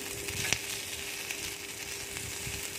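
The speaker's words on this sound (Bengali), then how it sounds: "পেঁয়াজ কুচি দিয়ে আবারও আমি নাড়বো।" Chopped onions sizzle and crackle while being stirred in hot oil and spices in a pan for a Bengali vegetable bharta, a steady close frying hiss with occasional sharper spatters and faint stirring scrapes.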